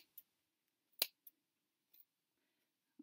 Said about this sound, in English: And you're just going to snip away